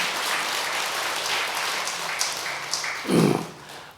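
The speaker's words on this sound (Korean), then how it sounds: "그 막내한테 박수 한번 쳐줍시다" Applause from a gathering at a Buddhist temple prayer service, a steady patter of clapping with a brief louder burst near the end.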